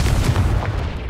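The Confringo blasting spell detonates in Hogwarts Legacy. A loud, dense, crackling burst with a deep booming low end lasts the whole short moment, with no voices.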